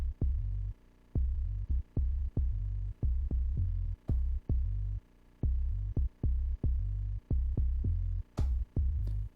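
A deep bass sample plays back repeatedly on a Roland SP-404 MK2 sampler, heavy low booming hits in a steady chopped rhythm with brief gaps between them, with a couple of faint higher clicks near the end.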